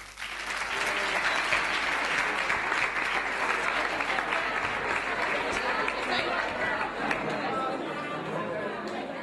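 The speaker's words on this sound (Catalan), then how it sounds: "Abans, un fort aplaudiment per a ells." A large audience at a youth event in Alcalà de Xivert applauds loudly and steadily for several seconds, the dense clapping mixed with crowd chatter before it tapers slightly at the end.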